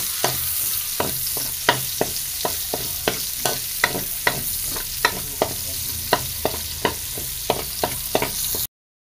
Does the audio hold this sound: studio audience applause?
no